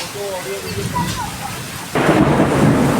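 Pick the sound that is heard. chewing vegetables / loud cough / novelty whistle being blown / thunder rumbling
thunder rumbling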